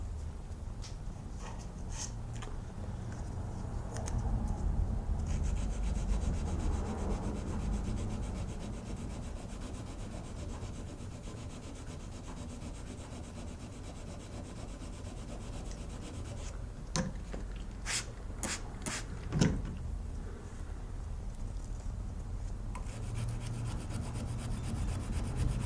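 Steady hand sanding on a knife blade, a continuous scratchy rubbing with long even strokes, close and moderately quiet, broken by a few sharp clicks and taps near the end.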